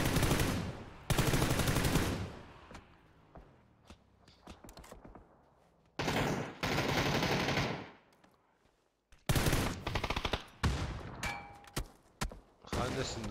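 Gunfire crackles through a video game battle in an esports custom match, with loud sustained automatic bursts and scattered single shots, separated by quieter stretches.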